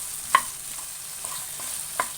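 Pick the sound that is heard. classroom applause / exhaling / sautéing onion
sautéing onion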